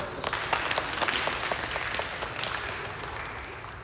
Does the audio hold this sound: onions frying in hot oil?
no